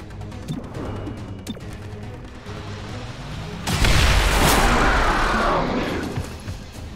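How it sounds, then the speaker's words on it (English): A shrapnel grenade explodes in XCOM Chimera Squad, a single loud, booming blast that swells after a quieter lead-in and then rolls off in a long, fading rumble. "Throwing shrapnel. Able to detonate."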